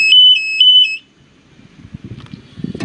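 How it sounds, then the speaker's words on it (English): A shrill electronic calibration alarm on a Genie Z-45 XC aerial lift beeps twice in quick succession, loud and close, followed by quiet mechanical handling noises. "hold it back for 5 seconds and wait for the alarm"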